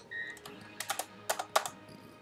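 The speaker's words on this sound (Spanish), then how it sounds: "Pero si utilizo ya el teclado, utilizo las teclas direccionales" Several sharp computer keyboard clicks, a few arrow keys tapped in two quick clusters with a faint tone beforehand, close and fairly quiet with no talking.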